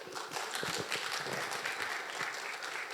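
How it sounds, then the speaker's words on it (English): A crowd applauding at an awards ceremony, dense sustained clapping that fills the room for a few seconds without a break, fairly distant. "so they required a lot round of applause. Let's have a applause."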